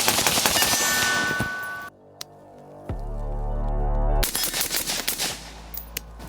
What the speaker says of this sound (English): You want me to shoot it? Sure.